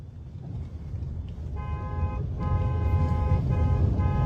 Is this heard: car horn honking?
yes